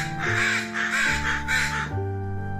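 A crow on a rooftop caws several times in a steady rhythm, loud and close, with a musical backing underneath.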